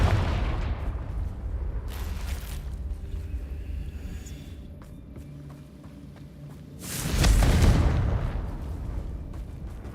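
Confringo fire spell blasts in Hogwarts Legacy during a fight, two loud booming explosions several seconds apart with a lingering rumble between them, with no talking.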